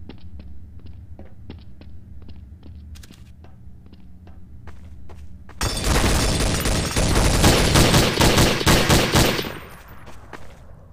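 Counter-Strike: Source gameplay, starting with evenly spaced single footsteps or shots over a low hum, then a loud sustained burst of rapid automatic gunfire emptying a full magazine, fading away at the end.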